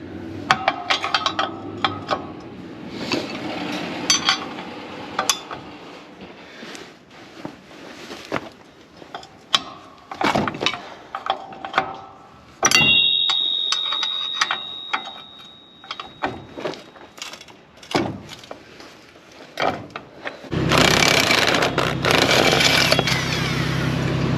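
Two wrenches loosening a bolt on a farm planter, a long run of close metallic clanks, ratchety clicks and scraping taps in irregular bursts, ending with a louder steady rushing noise.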